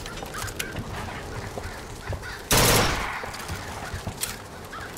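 A burst rifle fires in BioShock Infinite, one loud, dense volley lasting about half a second in the middle, set against quieter game ambience and scattered shots.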